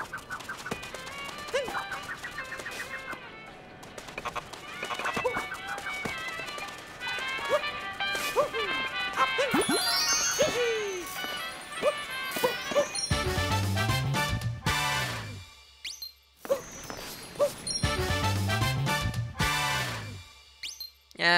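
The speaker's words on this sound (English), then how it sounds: "we can play fetch with the dog" A dog in Super Mario Odyssey barks repeatedly in short, yappy bursts over game music and chimes, with a player talking in between.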